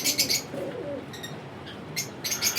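Royal golden-crossbred flying pigeons coo softly and low, overlapped by a few sharp, bright chirps and faint wing rustles close by, with no talking.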